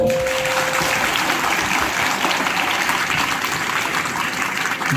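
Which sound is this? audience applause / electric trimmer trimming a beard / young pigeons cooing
audience applause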